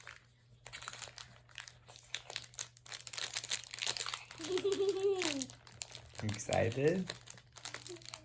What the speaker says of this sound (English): let's open them up and see what you get